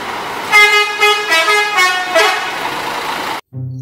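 A blue bus sounds its horn in a series of loud, close, blaring honks with rising and falling pulses, then cuts off abruptly before a brief different tone begins.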